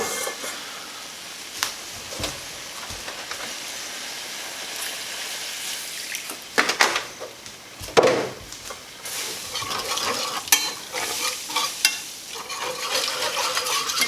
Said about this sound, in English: try and pick up as much of that fond off the bottom of the pan as you can